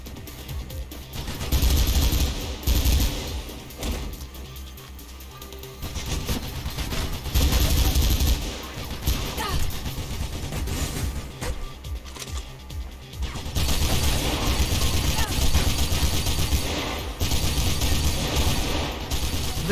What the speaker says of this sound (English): Aside from the punchy and loud gun sounds, visually not much is actually happening.